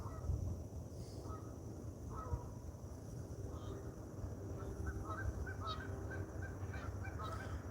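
Ducks honking and quacking in the background beside a trail with big sycamores, repeated distant calls over a steady low rumble of outdoor ambience.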